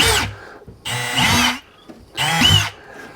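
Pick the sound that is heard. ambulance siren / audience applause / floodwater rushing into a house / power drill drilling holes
power drill drilling holes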